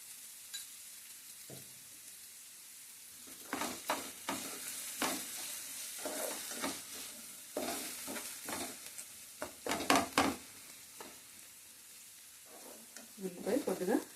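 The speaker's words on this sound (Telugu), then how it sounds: "ఉల్లిపాయ కొద్దిగా ఎర్రగా ఏగనిద్దాం" Onions fry quietly in a pan for mutton killi, a faint sizzle under repeated bursts of stirring and scraping that grow busier toward the end.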